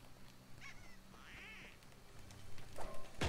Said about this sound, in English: I just heard a squeaky toy,